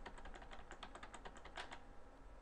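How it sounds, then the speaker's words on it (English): Computer keyboard keys pressed in a quick run of light clicks, about a dozen taps in a little over a second, faint and close, then quiet. "by hitting the G key wherever your cursor is at, and then hitting the period or comma keys"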